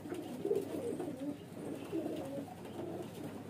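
Soft cooing of Rampuri cross highflyer pigeons bred from white domestic pigeons, two or three low rolling coos close by over faint background noise.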